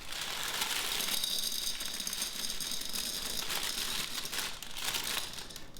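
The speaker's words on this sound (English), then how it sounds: "We can take the beans out, put them back in a jar" Ceramic baking beans being tipped off cooled pastry into a jar, a continuous close clattering and crinkling rattle of many small hard pieces.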